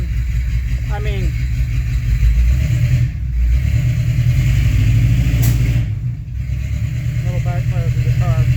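A 1985 K20 truck engine runs loud and steady at close range, with a deep, continuous rumble and brief shifts in pitch, while a person talks over it.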